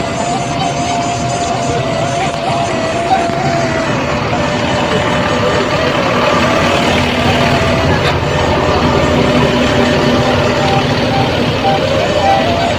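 Idle engine rumble and general bustle fill the Solo bus terminal as ANS buses wait to depart, a constant loud vehicle drone with crowd murmur and talk mixed in.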